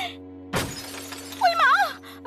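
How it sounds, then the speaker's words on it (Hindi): Glass from a mirror shatters in one sharp, loud crash that scatters into a short tinkling tail, followed by a rising whistle-like effect and a brief final accent. "शीशा टूट जाएगा।"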